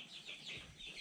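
Chickens cluck softly inside a backyard coop with roosting boxes, a few short, faint calls rising and falling over a quiet background with no talking.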